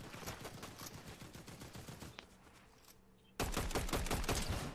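Rapid automatic gunfire from a video game fights in continuous bursts, dropping to a brief lull before an even louder, denser barrage resumes near the end.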